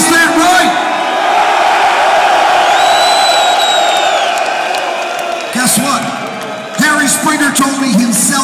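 A big crowd of metal fans at a Manowar show in Basel, Switzerland cheers, roars and whoops loudly and steadily, with a few shrill whistles. Shouted speech over the PA cuts through the noise at the start and end.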